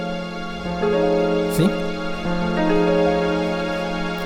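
An E dominant 7 sharp 9 sharp 5 chord rings out sustained, struck again a few times over about four seconds, with a brief spoken word partway through.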